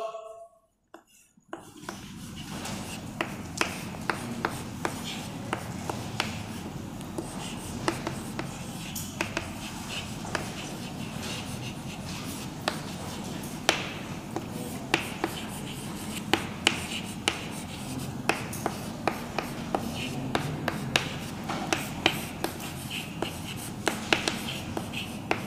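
Chalk or marker on a board in a classroom chemistry lesson: steady faint scratching and tapping strokes across the board, with small clicks scattered throughout and a low room hum, no clear speech.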